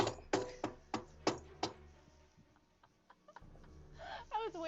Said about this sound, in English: I just tapped the tambourine very gently.